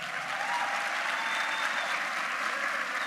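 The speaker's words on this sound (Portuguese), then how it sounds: "Pode aplaudir." An audience at a church talk on faith and vocations applauds with sustained, even clapping at moderate volume, heard without any speech.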